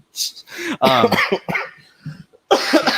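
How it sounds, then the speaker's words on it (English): A few harsh, close coughs and throat-clearing sounds in quick bursts, with short pauses between them. "I'm sorry about this cough"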